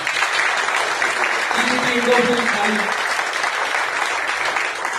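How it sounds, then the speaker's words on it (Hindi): Applause from an audience at a Modicare business gathering in Hisar, a dense steady wash of clapping that holds loud for the whole stretch, with a brief murmur of voices mixed in near the middle. "तो एक बार जोरदार तालियां बजा सकते हैं।"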